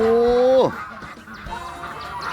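A loud nasal honk-like quack slides down in pitch, followed by a busy flock of ducks quacking more softly in the background.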